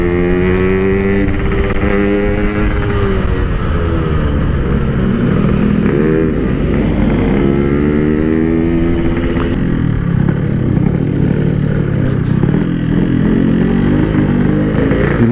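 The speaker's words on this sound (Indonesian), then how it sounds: "Ini selip kopling cok." A motorcycle engine with a slipping clutch revs loudly and steadily throughout, its pitch rising and falling in long sweeps with a rough clattering edge, heard close up without talk.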